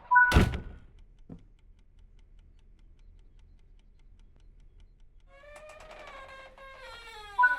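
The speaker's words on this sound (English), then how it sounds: "Now proceed into the front cabin and open both doors to the electric cabinet." Two metal cabinet doors in the front cab of a Czech Class 750 "Brejlovec" diesel locomotive in a train simulator swing open, a loud close clunk followed by a fainter second thunk, then quiet cab hum and a brief tonal beeping near the end.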